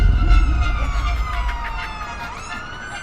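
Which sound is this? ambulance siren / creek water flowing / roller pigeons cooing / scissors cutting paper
ambulance siren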